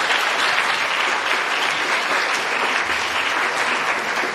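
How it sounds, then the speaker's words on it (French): Steady applause from an audience at a public conference on peace and national reconciliation fills the whole moment, dense and even, with no voices standing out. "c'est le Dr Yakomena Raphaël, que je demande d'applaudir"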